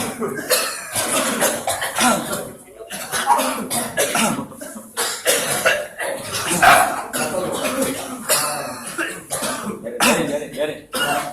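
Repeated forced coughing and throat clearing during a ruqyah session, rough and loud bursts overlapping with murmuring voices and talk in a reverberant room.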